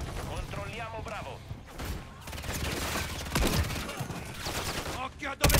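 Rapid automatic gunfire and scattered shots fill a Call of Duty multiplayer match, dense and sustained under an Italian player talking throughout, with a sharp loud burst right at the end.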